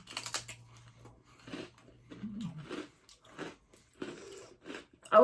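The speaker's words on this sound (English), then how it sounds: "I like how crunchy these are." Crunchy sweet cereal-like treats from a snack box being chewed close to the mic, a series of crisp irregular bites and crunches with pauses between, alone without talk.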